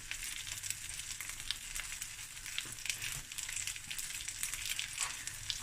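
Chicken browning in a pan as its fat renders, a continuous soft crackling sizzle with faint pops, steady and moderately quiet throughout.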